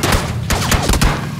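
Gunshots in PlayerUnknown's Battlegrounds, several close, loud sharp cracks in quick succession over a steady noisy game backdrop, with a faint voice briefly underneath.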